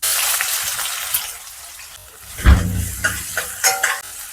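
A tempering of mustard seeds, urad dal and onions in two teaspoons of hot oil over a medium flame crackles and sizzles in a pan, with a sharp burst midway and quieter popping and stirring after.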